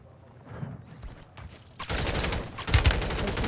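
Dense bursts of gunfire during a Call of Duty match, fairly loud and continuous through the last half after quieter rustling at the start.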